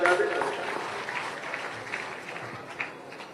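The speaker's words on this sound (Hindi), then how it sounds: "एक बार तालियां आप उनके सम्मान में बजा दें।" An audience at a comic poetry gathering (kavi sammelan) in Indore claps in a dense, fairly soft wash that is strongest at first and then slowly fades, with faint voices mixed in.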